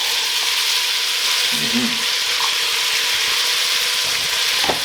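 Carrots and other vegetables sizzling as they go into a hot soup pot for cheeseburger soup, a loud, continuous frying crackle with some stirring scrapes and a brief murmur of a voice.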